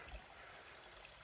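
Creek water flowing at a trail crossing in Castle Rock State Park, a steady close rushing trickle with no talking.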